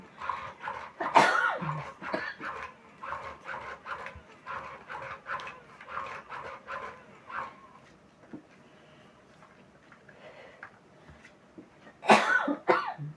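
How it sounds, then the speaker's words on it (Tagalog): Two sharp coughs, one early and one near the end, with quieter rustling and murmuring sounds between them. "May ubo ka siguro, ano?"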